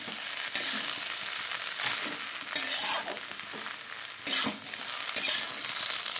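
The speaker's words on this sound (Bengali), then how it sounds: "এখন সব সবজি ঢেলে দিলাম।" Vegetables tipped into hot spiced oil, a continuous sizzle punctuated by several sharp scraping stirs of a spatula against the pan, close and without talk.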